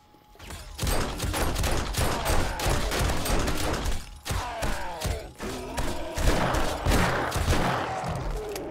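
Sustained gunfire from 7 Days to Die, played in a factory level, with rapid bursts of shots and thuds running nearly continuously at close range, briefly dropping out near the middle.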